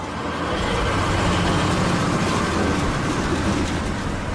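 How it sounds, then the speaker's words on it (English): A CSX freight train locomotive passes underneath on a northbound main line, giving a steady, loud, broadband rumble of engine and rolling wheels that holds throughout without a break. "Now watch as 235's engine passes underneath."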